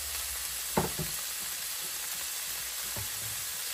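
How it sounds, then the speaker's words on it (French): Bacon lardons and onions fry in a cast-iron pan, giving a steady soft sizzle with a couple of brief stirring scrapes from a wooden spoon. "je vais venir faire revenir mes lardons et mes oignons"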